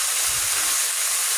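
Raw mango shreds hit hot oil seasoned with bay leaf and dried red chillies, giving a loud, close, steady sizzling hiss that fills the whole moment with no talk.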